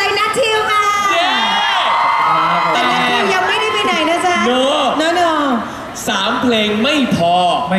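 A large crowd at the Siam Paragon Summer Beats Festival concert screams and cheers loudly and continuously, with high-pitched shrieks and whoops rising and falling, briefly dipping before surging again.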